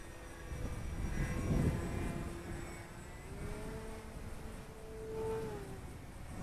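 A Fun Cub 1100mm EPO foam radio-control airplane flies aerobatics in windy conditions. Its electric motor whines thinly at a distance, rising and falling in pitch as it passes and climbs, with wind noise underneath and no talking.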